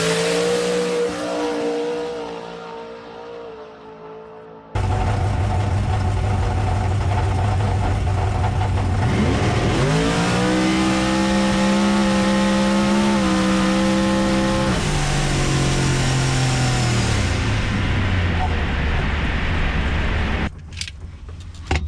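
A 2200 HP Corvette drag car makes its run: loud engine roar surges in after a quieter idle, rising and holding in pitch, then dropping as it shifts and fades near the end, with no talk.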